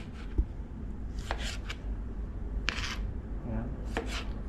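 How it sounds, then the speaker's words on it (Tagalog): Onion sliced with a knife on a board, a few separated crisp cuts and taps over a steady background hum, close by and moderately loud. "Mali pa ng pagkakagayat ko ng sibuyas."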